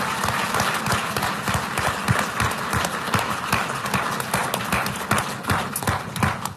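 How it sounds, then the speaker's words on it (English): A debate audience rises in a standing ovation, with dense, sustained applause of many clapping hands filling the room at steady loudness throughout, faint crowd murmur underneath. "That standing O is outstanding."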